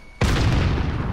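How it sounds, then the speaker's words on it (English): A single grenade explosion in Call of Duty: Modern Warfare, a sudden loud boom with a brief rumbling tail, close by and heard without talk. "hit him with a grenade"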